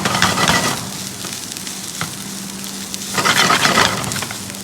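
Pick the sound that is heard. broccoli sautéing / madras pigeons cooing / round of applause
broccoli sautéing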